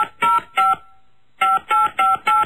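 Series of telephone DTMF dialing tones, loud and close: three quick beeps, a pause of about a second, then four more evenly spaced beeps, with no voices.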